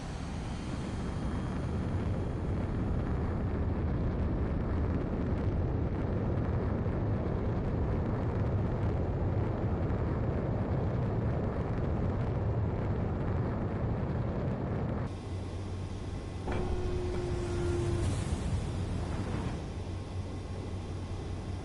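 A fighter jet in the video game Ace Combat 7 takes off with a long, steady roar, its engine rumble shifting partway through as a rising whine briefly cuts across.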